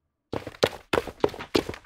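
A video game character sprints after a moment of silence, giving five quick, close footstep thuds in a slightly uneven rhythm, much like ordinary running.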